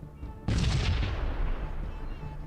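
Missiles launch in the space combat game Sunrider: The Mask of Arcadius, a loud sudden blast that opens into a broad roaring whoosh and slowly fades over about two seconds.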